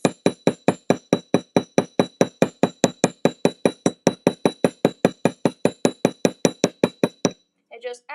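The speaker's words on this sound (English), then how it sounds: "You want to cover the whole blank in hammer marks." A hammer strikes a metal jewelry blank again and again to texture it, about thirty sharp, even, ringing taps in a steady rhythm, loud and close, then a brief pause and a few softer rustles at the end.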